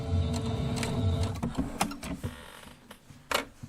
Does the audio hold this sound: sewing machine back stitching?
yes